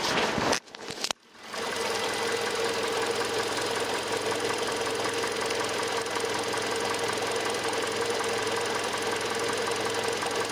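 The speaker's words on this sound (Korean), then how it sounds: "엔진 소음도 한번 들어보시도록 하겠습니다" A Hyundai Sonata The Brilliant CVVL Modern sedan idles steadily after a brief knock and pause at the start, its engine hum continuous, close and fairly loud with a faint rhythmic ticking.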